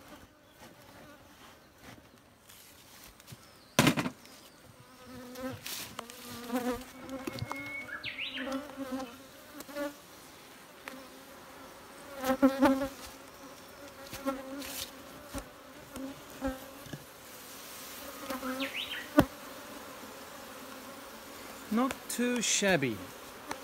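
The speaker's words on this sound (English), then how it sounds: "I got a few bees coming out and trying to attack me" Japanese honeybees buzz around an opened hive during a spring honey harvest, with faint, intermittent close passes of individual bees, soft handling knocks, and a person speaking briefly.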